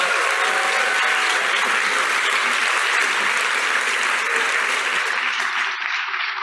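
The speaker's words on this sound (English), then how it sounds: "So give him a big applause." A big crowd at the World Health Summit 2022 applauds a visiting health minister, a thick continuous wash of clapping that holds steady and tapers a little near the close.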